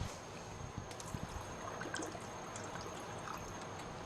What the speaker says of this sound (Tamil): இன்னும் நம்ம ஒரு 1/4 லிட்டர் போல் தண்ணி ஊற்றிக்கலாங்க.